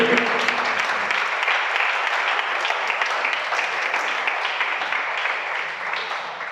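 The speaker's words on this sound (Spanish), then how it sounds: "se les va a aplaudir" Church congregation applauding during a pastor's sermon to young people, a steady, loud wash of clapping throughout with no voices standing out.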